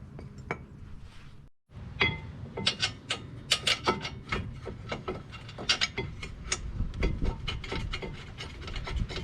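Front caliper mount bolts go back onto a 2016 Mazda 6 during a brake pad and rotor job, with a string of sharp metallic clinks, taps and scraping tool contacts close by, irregular and fairly quiet.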